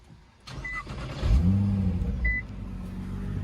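A Nissan car fitted with an Fi Valvetronic exhaust in quiet mode, R35 type, starts up after a couple of chimes: a brief crank then a low, smooth idle settling in close by, fairly subdued.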